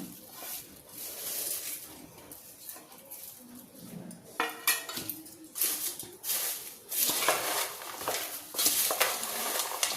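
A spoon stirs bitter gourd fry in a pan, giving close scraping and clinking of utensil against metal with light sizzling, continuous and uneven, with no voice.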